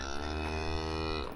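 A single cow on a farm lets out one long, loud, drawn-out moo close by, steady from start to finish with no talk over it.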